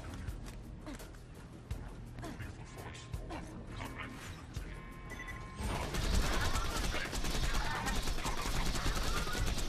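Borderlands 2 gunfire as Maya in True Vault Hunter Mode: scattered shots with crisp sharp cracks at first, then a denser, louder stretch of continuous firing over in-game background sound.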